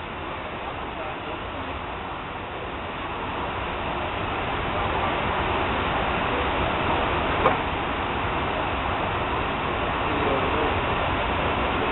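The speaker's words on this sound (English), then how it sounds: "UP coal train pulls ahead." A Union Pacific coal train pulls ahead in a switching yard, giving off a steady broadband rumble and rolling noise that builds slightly and holds, with one brief click partway through.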